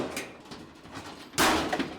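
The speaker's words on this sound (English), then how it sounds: "So that noise was the appropriate removal of the door." A clothes dryer door coming off during a repair, heard as soft handling noise followed by a sudden loud clunk and rattle near the end, close by and without talk.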